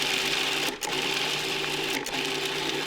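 A food processor blitzing pesto with salt and pepper runs as a steady, loud motor whir, dipping briefly twice as the blades catch the mix, with no one speaking.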